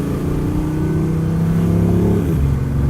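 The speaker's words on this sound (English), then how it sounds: "like a turbo 4-cylinder with a muffler, almost like an Alpha 4C kind of sound" A BMW i8's turbocharged engine accelerates steadily, its muffled drone rising in pitch with a smooth whir, heard close and without talk.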